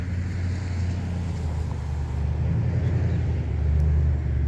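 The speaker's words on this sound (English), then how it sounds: "here are your dump trucks" Dump trucks idle and rumble at a construction site staging area, producing a steady, heavy low engine drone that swells slightly toward the end, with no talk.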